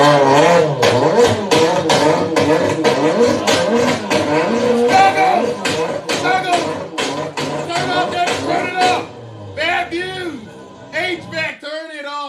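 A voice imitates a car in bad condition revving and misfiring, with loud, sputtering, rising and falling engine-like sounds that break up into uneven bursts toward the end.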